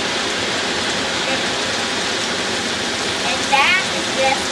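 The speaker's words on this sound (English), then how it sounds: "and that is just the rain." Steady rainfall outdoors near a hayfield, a dense, even hiss filling the whole span, loud and continuous, with a brief high squeak near the end.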